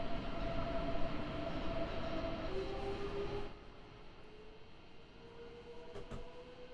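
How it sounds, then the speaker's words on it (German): An S-Bahn train pulling away in Train Sim World 3, a steady rolling rumble with rising electric motor whine, which drops to a quieter hum partway through. "So, die S-Bahn hat Abfahrt."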